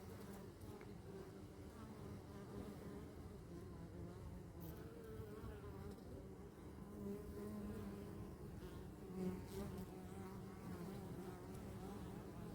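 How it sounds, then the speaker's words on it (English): Honey bees buzz steadily at a hive entrance in an apiary, guard bees among them, a dense, continuous close-up drone with no voices. "This girl here at the bottom, she's one of the guard bees there."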